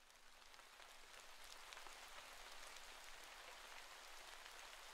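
Steady rain falls on a surface in the Sword Art Online Alicization Lycoris video game on a rainy after-school scene, a soft even hiss of dense drops that holds for the whole stretch with no voices.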